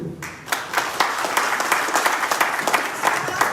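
Applause from an audience at a Covid warrior award ceremony, steady dense clapping with some sharper individual claps standing out, fairly close and sustained throughout.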